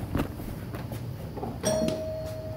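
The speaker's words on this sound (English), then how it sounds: "Is that a doorbell on there? Yes, it's a doorbell." An apartment doorbell chimes once with a clear ringing tone that lingers, amid scattered knocks and handling noises nearby.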